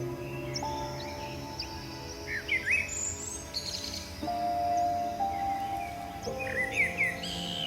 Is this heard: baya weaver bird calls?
yes